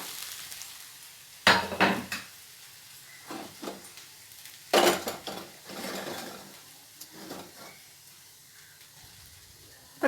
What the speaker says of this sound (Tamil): வதக்கும் போது அந்த வெண்டைக்காயோட கொழகொழப்புத்தன்மைலாம் போயிடும். நல்லா வதங்கிடுச்சு.